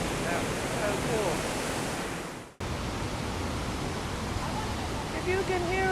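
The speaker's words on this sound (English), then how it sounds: "If you can hear us over the falls." Powerful roar of Nugget Falls, the 278-foot lower tier of a waterfall in Juneau, Alaska, fills the scene as a loud, steady broadband rush, with faint voices talking over it and a brief dropout midway.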